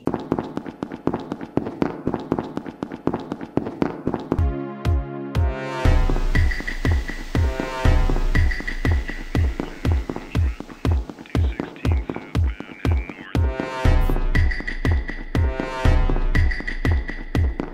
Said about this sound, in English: I also used the radio sound effect and steps, but steps on concrete